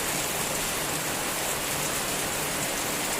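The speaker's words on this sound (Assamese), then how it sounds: "বাহিৰত বহুত ডাঙৰ বৰষুণ দি আছে" Heavy rain falling outside, a steady, dense hiss of even loudness from start to finish with no breaks.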